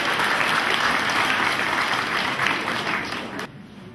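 A church congregation gives a sustained round of applause to welcome two priests at a Mass of thanksgiving, dense steady clapping filling the space before it abruptly thins out near the end.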